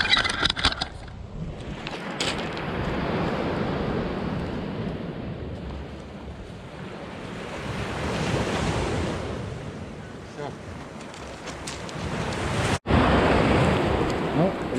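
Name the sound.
Black Sea waves on the shore at Sochi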